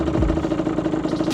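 Motorcycle engine running close by as the clutch is slowly let out, a steady mid-pitched drone with a short dip in revs near the start, loud and without speech.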